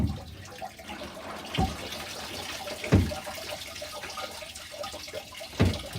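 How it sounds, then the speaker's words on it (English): Water sloshes and splashes while laundry is washed by hand on a homestead, with a few distinct louder pours or dunks spaced several seconds apart over a low continuous watery background. "A little more water. A little more agitation."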